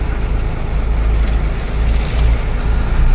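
A vehicle engine idling loud and close while being parked before unloading a load of bricks, a steady heavy rumble with faint higher clinks.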